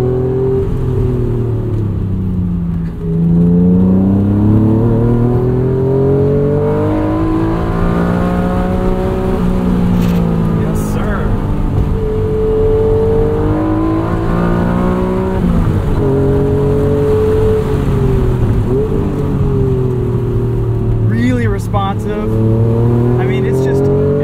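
A 1992 Acura NSX engine hums and revs steadily through gear changes on winding canyon roads, rising and falling in pitch under continuous conversation from people inside the car.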